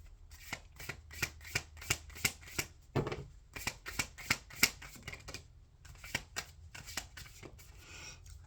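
Tarot cards being shuffled up close, with rapid riffles and flicks in quick rhythmic bursts, a brief pause around the middle, then more shuffling.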